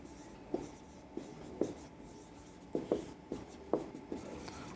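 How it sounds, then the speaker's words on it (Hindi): A pen writes on paper while an amount is entered in an accounting exercise, a series of distinct scratchy strokes, close and moderately loud, coming in uneven bursts with short pauses. "अब इसका अमाउंट आएगा तो लिख सकते हैं यहाँ पर"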